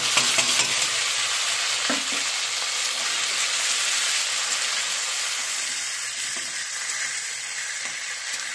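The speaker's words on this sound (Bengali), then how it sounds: "একটু নেড়ে চেড়ে ভেজে নেবো" Freshly ground raw ginger spice paste stir-frying in oil with fried potatoes, a steady loud sizzle and hiss throughout, with a couple of faint scrapes of stirring.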